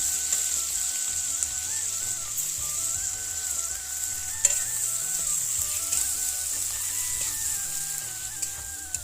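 Steady, continuous sizzling of ginger garlic paste frying in hot oil, close and even, with occasional faint clinks of a utensil and no talking.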